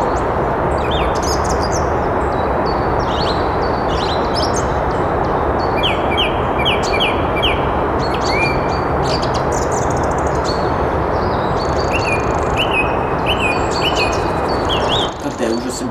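A song thrush sings phrases of varied, repeated chirps, joined by a chaffinch, both fairly clear over a loud, constant wind-like background roar through most of the passage.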